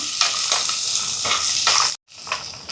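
Small onions sautéing in a pan for a tomato kurma, giving a steady close sizzle and frying hiss broken by a few stirring scrapes, with a brief pause near the end before the sizzling resumes.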